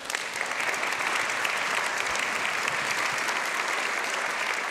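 An audience gives sustained, dense applause for the conductor of a chamber orchestra at a concert, an even wash of clapping that holds steady throughout without letting up.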